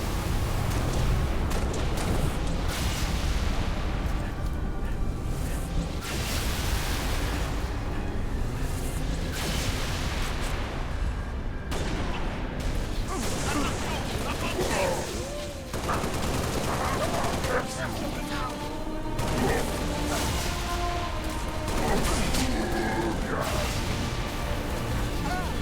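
Cannon fire and heavy gunfire against transports in the game Halo Reach, loud bursts of repeated shots and blasts continuing throughout, with occasional speech mixed in.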